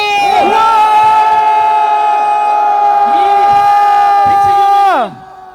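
A large crowd roars and cheers in one sustained, loud shout at the launch ceremony of a committee against political prosecution, holding steady for about five seconds before cutting off abruptly.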